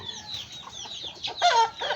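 A bearded chicken, a hen of a bearded breed, clucks in a series of short calls on a farm, with a louder burst of clucking near the end.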